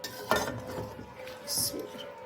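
Metal spoon stirring beef karahi in a pot with the flame off, giving a few soft scraping clinks and knocks against the metal, close and fairly quiet.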